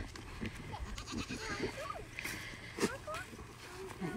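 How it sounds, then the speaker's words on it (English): Bleats from Crosby, a young Nigerian dwarf goat buck feeding from a bucket on a farm with alpacas, rise over a busy background with several animal calls, while someone talks throughout. "He's a Nigerian dwarf goat."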